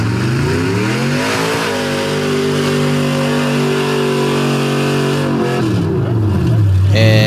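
A square-body truck, the Bluey Racing entry in a DOT-class drag race, revving loudly with rising and falling engine pitch as it rolls out, under continuous commentary from an announcer.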